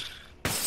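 Glass shatters in the PUBG video game, a single sudden bright crash that cuts in abruptly and stays loud to the end.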